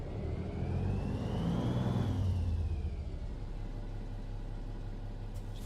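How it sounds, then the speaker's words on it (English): A Kenworth Legacy truck in American Truck Simulator, fitted with a modded engine sound pack, revs up to a rising whine and then falls back to a steady rumble. The sound is loud and continuous with no voices. "But as far as engine mod, I'm using the Creech Bomb engine sound pack."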